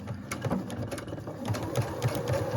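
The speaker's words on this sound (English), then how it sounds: "taking my time and stitching all the way down this seam" A sewing machine stitches steadily down a quilt seam, its needle running in a fast, even mechanical chatter, close and fairly loud throughout with no talking.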